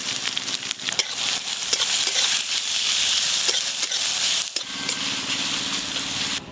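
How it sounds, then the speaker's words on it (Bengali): Whole garam masala, dried red chillies and bay leaves sizzle and crackle steadily in hot oil in a home kitchen, a loud continuous fry with a brief dip in intensity partway through, with no talking. "তেলের উপরে আমি গোটা গরম মশলা, শুকনো লঙ্কা, তেজপাতা ফোড়ন দিয়ে দেবো।"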